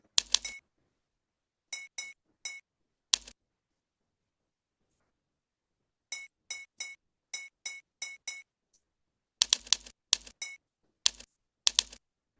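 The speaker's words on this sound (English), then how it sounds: "a student decides, oh, I want to spam the keyboard" Fast, clattery keyboard typing in short bursts separated by pauses, the keys hammered rapidly and unevenly up close.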